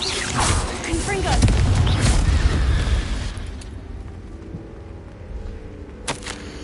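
A Confringo blasting spell erupts in Hogwarts Legacy with a loud, close boom that rumbles for several seconds before fading to a low roar, followed by a brief sharp crack near the end.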